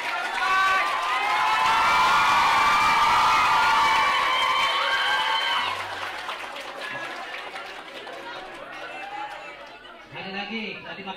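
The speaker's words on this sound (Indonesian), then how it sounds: "kita beri aplaus untuk Pak Muhammad Amin" Loud applause and cheering from a crowd of students at a school motivation and prayer gathering, a dense roar of clapping that fades after several seconds into crowd chatter and voices.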